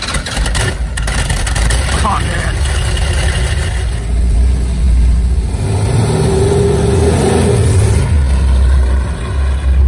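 A 1970 Dodge Challenger muscle car engine runs loud and close, rising into a rev through the second half, with a man briefly exclaiming over it.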